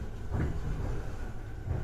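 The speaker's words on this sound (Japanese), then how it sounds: "大宮駅の3番ホームから発車します。" JR Musashino Line Musashino-go train departing Omiya Station, a low rumbling rail drone heard from on board with a brief swell of wheel and motor noise, steady and moderately loud.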